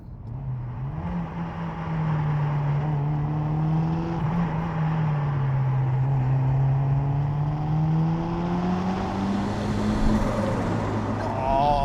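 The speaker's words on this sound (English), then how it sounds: "I just love that turbo sound." A turbocharged 1990s Toyota Celica GT-Four engine drones steadily from inside the car, its pitch rising and falling, with a faint high turbo whine near the end.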